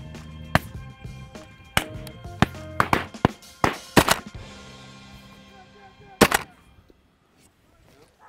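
Shotgun fire rings out during an outdoor pheasant hunt: a series of sharp, irregularly spaced cracks of varying loudness, some close and some more distant, with occasional voices between them.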